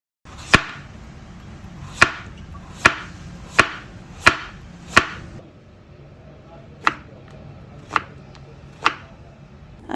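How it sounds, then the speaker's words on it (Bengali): Knife chopping peeled zucchini finely on a board: about nine crisp, evenly spaced chops, close and distinct, with quiet pauses between strokes. "এখন ঝুকুনি থেকে খোসা ছাড়িয়ে আমি এটাকে কুচি কুচি করে কেটে নিচ্ছি।"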